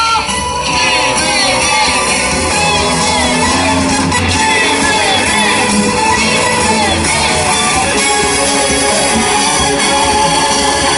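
A dense rally crowd at a public gathering in a station square roars continuously with cheering, shouts and clapping blended into a loud, unbroken wash of noise.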